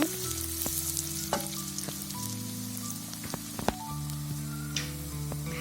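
Bay leaves, cinnamon pieces and cardamom pods fry in oil, giving a soft, crackly sizzle dotted with sharp little pops at irregular intervals, fairly quiet and without any talking.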